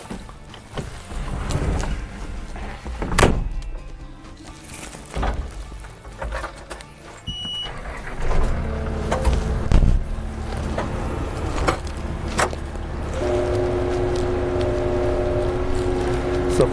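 A diesel firefighting machine idles and then revs, its engine rumbling with thumps and knocks before settling into a steadier, louder drone with a faint whine.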